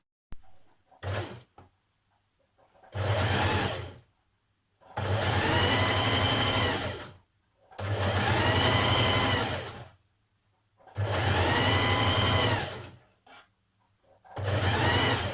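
A domestic sewing machine runs in four long, even bursts separated by pauses, stitching a small hem on the sleeves of a woven Burda top, close and loud with no talking.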